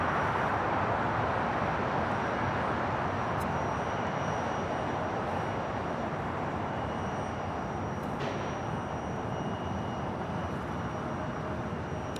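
A Boeing 757-200 jet airliner at Los Angeles LAX airport roars steadily and loudly throughout, a broad, continuous engine rush with no voices, holding at near-constant level from start to finish.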